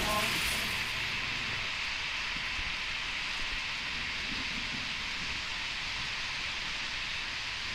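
Hissing from a steam pipe in the horror game [REC] Paroxysm, a steady, broad, close hiss that runs without pause from start to finish.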